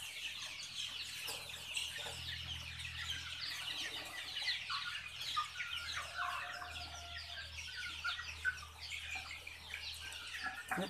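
Chickens cluck and call on a mixed poultry farm that also keeps Kadaknath and desi fowl, silkies and turkeys, busy overlapping clucks with occasional crowing and other bird calls, fairly close and continuous without talk.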